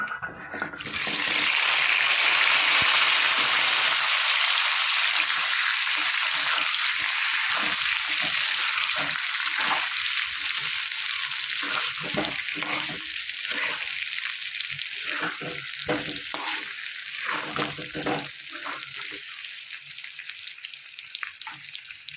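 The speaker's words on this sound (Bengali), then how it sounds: "এই তেলেই হালকা করে আমি আলুগুলো ভেজে নেব।" A loud, steady sizzle of potatoes frying in oil, starting with a sharp burst and settling into continuous crackling for the whole stretch.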